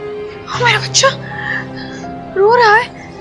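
A young child cries in high, wavering wails that rise and fall in a few bursts, with a voice speaking nearby in a tense indoor moment.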